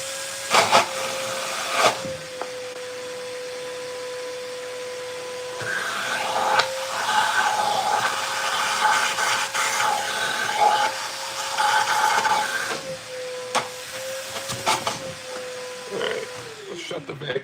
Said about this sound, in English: Can you hear why I hate loud shop vacs?